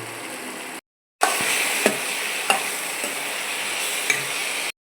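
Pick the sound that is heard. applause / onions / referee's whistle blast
onions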